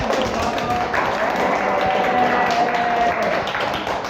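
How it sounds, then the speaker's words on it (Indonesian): Classroom applause from students after a group presentation: a steady, dense patter of many hands clapping at once, fairly loud and continuous throughout, with some voices mixed in. "baik tepuk tangan"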